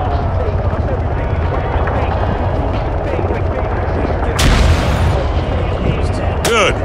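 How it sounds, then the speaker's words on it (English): A frag grenade explodes on a firing range in the ArmA 3 video game: one sharp, loud blast midway through, with a second burst near the end, over a steady rumbling game din. "Toss the grenade down the range to take out several targets at once."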